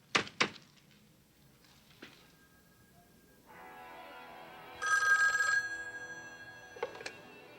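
A telephone rings, its electronic bell trilling for about two seconds before a louder burst near the end, following a few sharp knocks and thumps of handling at the start in an otherwise quiet room.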